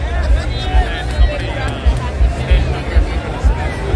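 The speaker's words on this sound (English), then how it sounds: "This is crowd getting ready for opening day." A crowd gathers on the street for the Cincinnati Reds opening day parade, a steady babble of many nearby voices with footsteps and low rumbling traffic underneath.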